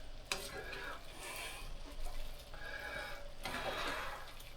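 Seasonings being stirred into food sautéing in a hot pan, with steady sizzling and intermittent scraping strokes of the stirring utensil, heard close and without talk.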